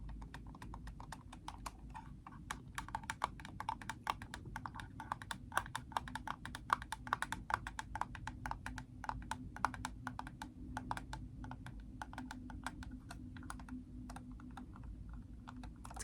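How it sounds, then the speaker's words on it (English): A red Logitech computer mouse gives rapid, close clicks in a steady fast run that lasts nearly the whole stretch and thins out toward the end, with no voices. "this is actually my dad's computer mouse"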